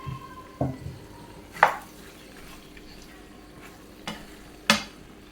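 Cooked macaroni stirred and mixed in a pan for a creamy cheesy pasta with vegetables: a few sharp scrapes and knocks of a spoon against the pan, spaced apart over a quiet background, with no talking.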